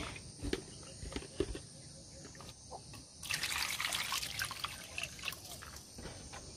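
Harvested rainwater scooped and poured outdoors, with several small splashes and trickles early on, then a steadier run of pouring and dribbling water with faint insect chirps in the background.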